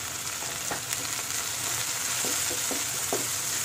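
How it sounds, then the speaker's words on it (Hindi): Ginger and green chili sautéing in a pan for a samosa filling, a steady soft sizzle with a few scraping clicks as the spatula stirs, close and quiet, no voices. "इसे इस तरह से अदरक और मिर्च के साथ हम सौटे कर लेंगे अच्छी तरह से"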